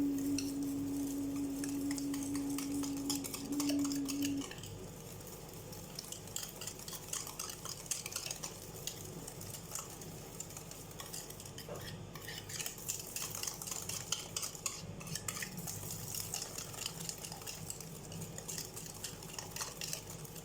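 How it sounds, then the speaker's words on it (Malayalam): Red velvet cake batter whisked by hand in a bowl, a fast, steady ticking and scraping of metal against the bowl, faint and close, with a brief tone at the start and no voices. "അല്ലാത്തവരാണെങ്കിൽ ഇതുപോലെ വിസ്ക് ഉപയോഗിച്ചിട്ട് മിക്സ് ചെയ്യുക."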